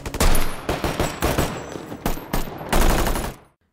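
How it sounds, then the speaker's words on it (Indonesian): Rapid bursts of police gunfire at robbers in front of a bank in a film crack in quick succession, loud and close, some shots rattling like automatic fire, before cutting off abruptly. "Di depan bank, para polisi terus melepaskan tembakan kepada para perampok"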